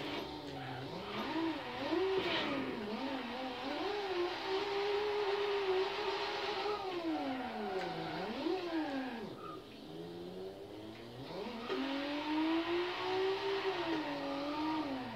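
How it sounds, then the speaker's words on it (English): A manual car being drifted with clutch kicks, its engine revving and falling in repeated sweeping surges, loud and continuous with tire and drivetrain whine. "Now I'm gonna show you guys how to drift."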